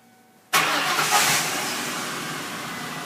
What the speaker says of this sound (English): and the engine cranks